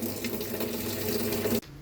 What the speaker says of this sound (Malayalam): ഓക്കെ, വെള്ളം എടുക്കുന്നുണ്ട്.